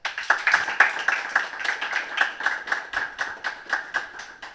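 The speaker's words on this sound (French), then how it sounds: "Sous vos applaudissements, s'il vous plaît." An audience at a televised civil-society programme applauds a guest: a short burst of sparse, steady handclaps from a modest crowd, fairly close and without talk.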